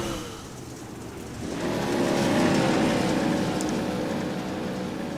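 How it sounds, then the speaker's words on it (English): A late model race car engine revs at Oswego Speedway in the iRacing simulator, rising into a loud sustained roar after a quieter start and holding steady before easing slightly. "That's him revving his engine"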